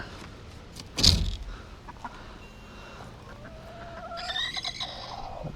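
Chickens cluck softly in the background, followed by a sharp clatter and a brief higher squawking burst near the end.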